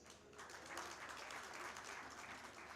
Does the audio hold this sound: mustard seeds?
no